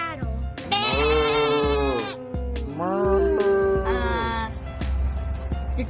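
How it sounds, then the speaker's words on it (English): Sheep and goats bleat nearby in several long, wavering calls, with short pauses between the bursts and one animal sometimes answering another. "why do I hear sheep, goats, and cattle?"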